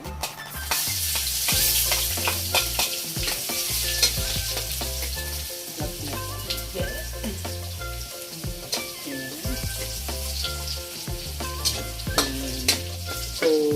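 Garlic sautéing in oil in a pan for a Filipino sinampalukan chicken dish, a loud steady sizzle with repeated scraping and clinking of a utensil stirring against the pan, no talking.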